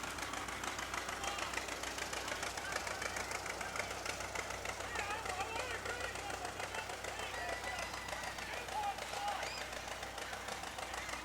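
A 1954 Minneapolis Moline tractor engine runs steadily during a summer parade, a continuous knocking, rhythmic mechanical chug heard amid loud outdoor crowd noise and voices.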